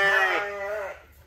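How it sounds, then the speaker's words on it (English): A single sheep bleats close by on a family farm, one wavering call just over a second long, with a strained start that tapers off. No talking over it. "Climbing sheep."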